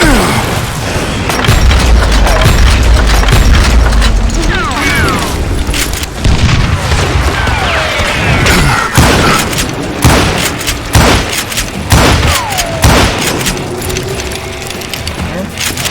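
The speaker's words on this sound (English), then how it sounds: "Robert Ollinger appeared with his terrible double-barrel shotgun." Double-barrel shotgun blasts in the Western shooter Call of Juarez Gunslinger: loud, booming shots in quick irregular bursts over a dense, busy game soundscape with clinks and mechanical rattles.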